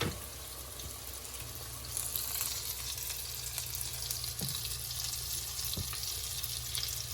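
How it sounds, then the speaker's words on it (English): Battered chicken pieces sizzle in hot oil a couple at a time, a steady close crackling fry with occasional louder pops and splatters. "just fry a couple pieces at a time"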